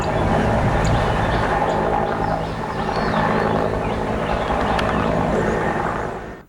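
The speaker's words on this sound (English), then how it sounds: "A Bell 212 helicopter of the Air Force has been deployed for the purpose." An Air Force Bell 212 helicopter deployed over a forest fire in the Maragala Mountain Reserve in Monaragala gives a loud, continuous rotor and engine roar close by that fades slightly at the very end.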